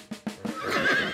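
A cartoon horse neighs in a children's animated phonics show: a short, close, bright whinny that rises into a quavering squeal, preceded by a few quick soft hoof-like knocks.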